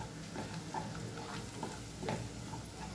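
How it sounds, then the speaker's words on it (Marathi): Spices for mutton rassa, including garam masala and coriander powder, fry in a pan with a soft steady sizzle and faint intermittent scraping taps of stirring, quiet and close with no talk. "1 ते 2 मिनिटं मसाले छान परतून घेऊया।"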